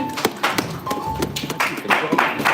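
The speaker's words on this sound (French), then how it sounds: "On peut applaudir pour la parole de Dieu" A church congregation applauds after a Bible reading, distinct hand claps in an uneven, loose rhythm, close and fairly loud, with some voices murmuring underneath.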